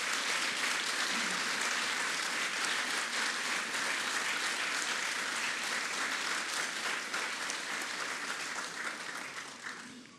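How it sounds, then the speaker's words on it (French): Dense, sustained crowd applause welcomes the French president Emmanuel Macron in Abidjan, Côte d'Ivoire, loud and steady before tapering off slightly at the end. "que l'on puisse souhaiter par des applaudissements nourris la présence de son"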